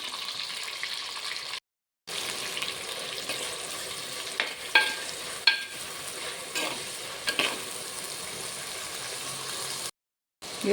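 Onion, tomato, ginger and green chilli sizzle and fry in hot oil for a fish chilli curry, a steady crackling hiss with occasional stirring clinks of a spoon against the pan, close by with no talk.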